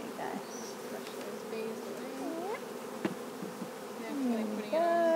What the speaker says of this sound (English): the rest of the bees will make their way over to the new hive themselves